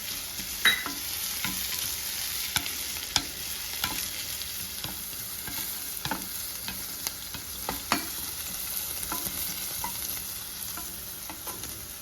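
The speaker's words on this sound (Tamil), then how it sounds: "வெங்காயம் கொஞ்சம் வதங்கட்டும்" Onions and cashews sauté in a pan, a soft continuous sizzle punctuated by sharp clicks of a spoon stirring and scraping at an irregular pace, no talking.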